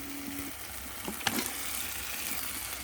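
Chicken pieces hit spiced oil that has already been cooked down in a pan for a Bengali chicken kosha, giving a soft, steady sizzle with a brief stir and clatter partway through.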